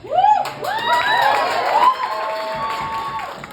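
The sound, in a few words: crowd cheering and applauding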